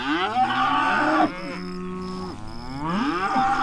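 Mashona cross cattle at weaning time low repeatedly and loudly, several long, drawn-out moos that overlap and answer each other, close by and with no talk.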